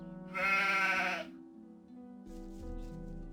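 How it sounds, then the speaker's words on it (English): A sheep in the video game Gothic 2 gives one loud, wavering bleat lasting under a second, followed by quieter game ambience and background music. "And this is an escort quest. And the sheep, she is trying her best."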